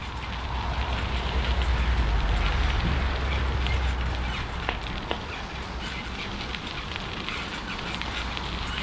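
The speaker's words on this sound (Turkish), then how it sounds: "Şimdi yağmur yağıyor." Steady rain hissing down during a bicycle trip, a dense even wash of noise with a low rumble of wind or movement underneath, loudest in the first few seconds and then holding constant.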